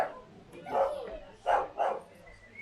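Several dogs bark at an outdoor vegan festival at Glastonbury, giving three short barks spaced over a few seconds at moderate distance, with faint crowd noise around them.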